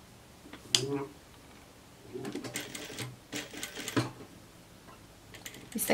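A sewing machine runs in short bursts while stitching along the folded edge of a garment's fabric, its rapid mechanical chatter stopping and restarting, with someone talking at points between runs.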